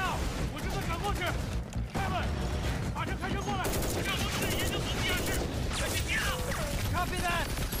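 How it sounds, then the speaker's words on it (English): Firefight gunfire in a combat scene: dense bursts of automatic fire and rapid shots crackling continuously, mixed with impacts and crashes, loud and close, with voices talking and shouting through it. "Me and Carter are under fire"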